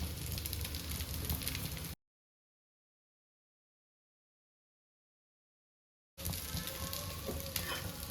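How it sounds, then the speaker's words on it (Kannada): Colocasia leaf patrode rolls shallow frying in oil on a medium flame, Konkani style, giving a dense, even sizzle that cuts out into silence midway before resuming just as steadily. "ಈ ರೀತಿಯಾಗಿ ಇದನ್ನು ಪತ್ರೊಡೆಗಳನ್ನು ಮೀಡಿಯಂ ಫ್ಲೇಮ್ನಲ್ಲಿ ಫ್ರೈ ಮಾಡಿ."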